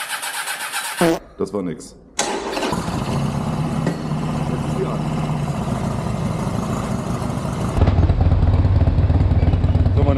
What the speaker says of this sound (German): jetzt seht ihr, ich habe die Maschine gestartet